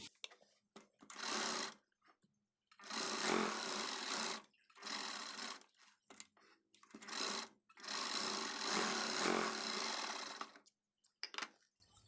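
A sewing machine stitches a curved seam on a pinned party-wear saree sleeve, running in several fairly quiet whirring bursts of a second or two, separated by short pauses.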